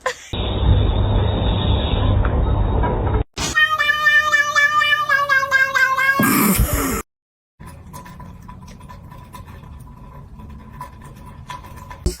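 A cat outdoors meows in a few drawn-out, tonal cries in the middle of a choppy mix of noisy segments, then quiet scratchy sounds follow.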